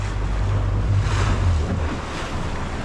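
Strong wind rushes over an open lagoon during a fishing trip, a loud continuous roar with heavy low-end buffeting against the microphone and a wash of water beneath.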